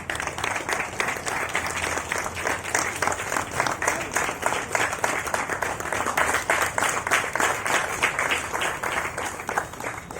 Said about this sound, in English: round of applause, sir, please?